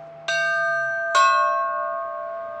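Two cathedral tower bells at Holy Trinity Cathedral in San Francisco strike one after another, the second a whole step below; each clear, ringing stroke sustains with long humming overtones, close and alone with no voices.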